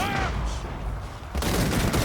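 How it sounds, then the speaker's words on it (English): Cannon fire in a Warhammer multiplayer video game battle, a dense run of heavy blasts and volleys that swell sharply partway through, rumbling loud and continuous with battle noise throughout. "Cannons just blasting these hammers to pieces."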